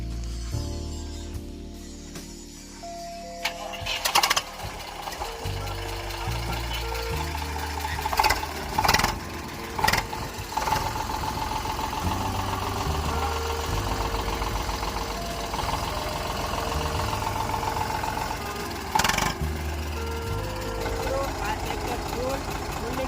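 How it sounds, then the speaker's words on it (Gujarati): A diesel engine of a second-hand Eicher 485 tractor cranks and catches, then settles into a loud, steady knocking idle nearby, with voices talking over it at times. "ચાલો મિત્રો, તમને હવે ટ્રેક્ટર ચાલુ કરીને પણ બતાવીશું"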